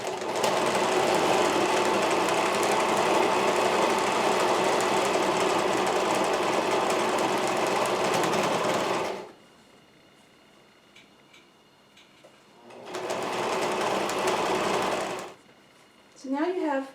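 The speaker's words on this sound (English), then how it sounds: "Just going to sew the two sides together" A sewing machine stitches the two sides of a fabric face mask together, running in a loud, steady whir for about nine seconds, pausing, then starting again in shorter runs.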